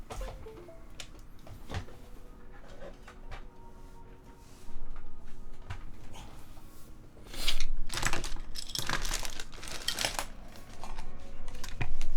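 Rapid clacking keystrokes on a Geonworks F1-8X hot-swap mechanical keyboard, close and crisp, with bursts of typing growing denser and louder toward the end.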